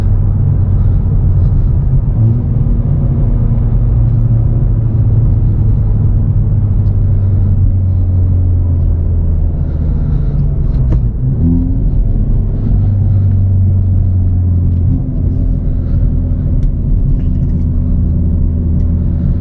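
A turbocharged 2020 Hyundai Veloster N Performance Pack engine drones low and heavy from inside the cabin, its rumble rising and shifting as it pulls hard under acceleration in boost.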